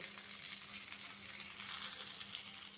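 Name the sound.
frying in a pan after adding turmeric powder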